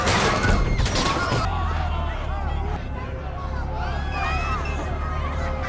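Gunfire from soldiers shooting at civilians amid street riots in the film Nowhere, a burst of sharp shots over a crowd's commotion and shouting, then a sustained hubbub with a continuous low rumble.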